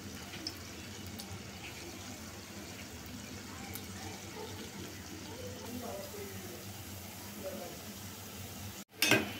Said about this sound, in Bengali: এখন আমি অল্প অল্প করে তাল মাখানোটা দিয়ে দেব এইভাবে